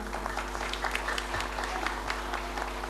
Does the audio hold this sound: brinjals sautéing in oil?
no